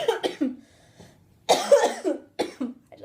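Several sharp coughs in short bursts, close up, with a pause and then a second cluster of coughing, no speech.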